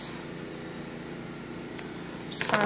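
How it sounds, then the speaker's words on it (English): A lawn mower running outdoors, heard from inside as a faint, steady, distant engine drone that barely changes, with a brief brighter clatter near the end. "Sorry about that lawnmower."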